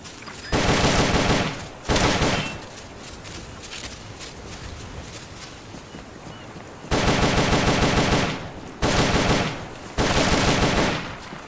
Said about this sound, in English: M16 is a standard assault rifle, capable of rapid fire.